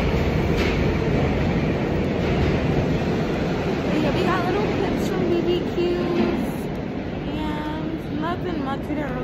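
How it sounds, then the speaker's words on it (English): A train rumbles along with a steady, loud roar and rattling wheels throughout, while people talk over the noise. "we finally found the train"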